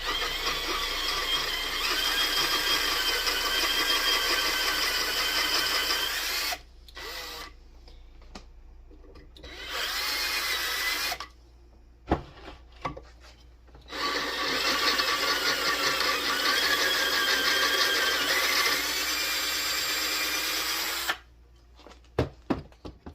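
A power drill whines loudly in several long bursts, stopping and starting, grinding holes to 5/16 inch into a Predator 212 engine block, with short clatters of handling between runs.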